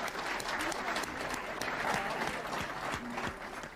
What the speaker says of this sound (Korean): 박수를 보내주시면